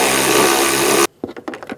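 A power tool runs hard for about a second while snugging down the bolts on a 2003-2008 Honda Pilot fuel pump assembly, then cuts off, leaving a few quick, sharp ratcheting clicks close by.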